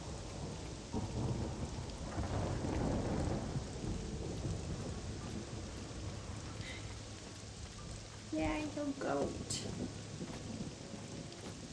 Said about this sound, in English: This is just lightning.